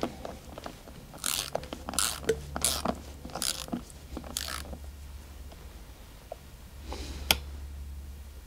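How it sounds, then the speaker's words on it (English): A ratchet wrench tightens a flange nut on the negative terminal of a DIY LiFePO4 battery build, giving close, clattering bursts of ratcheting clicks over several seconds before a few isolated clicks later on. "Let me put the flange nut on."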